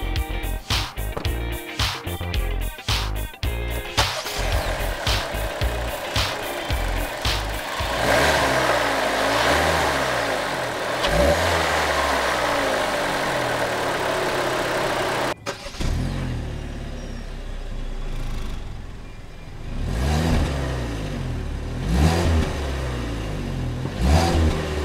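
A 2020 Kia Soul X-Line's 2-liter multi-point fuel-injected four-cylinder engine starts with a few sharp bursts, then revs up and down repeatedly, rising and falling in pitch, heard up close with no talking.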